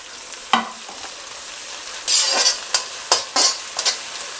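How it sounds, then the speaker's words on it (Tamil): Curry leaves hiss and crackle in hot oil in a frying pan alongside green chillies, with a steady sizzle and several bursts of scraping as a spoon stirs them, close and fairly loud. "கருவேப்பிலை சேர்த்துக்கிறேன்"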